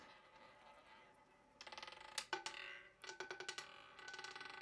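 A roulette ball clatters around the wheel, then rattles and bounces in quick ticking bursts across the frets before settling into a pocket, fairly quiet and close with no voices.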